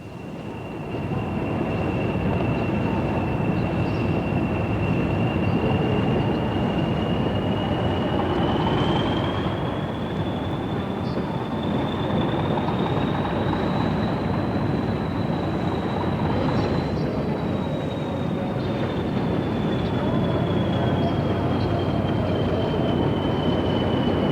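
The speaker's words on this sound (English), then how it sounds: "A Moorgate train pulls up at York Road Station" A London Underground train rolls steadily along the rails into York Road Station, its rumble constant throughout, with a long high-pitched wheel squeal that slowly rises and falls.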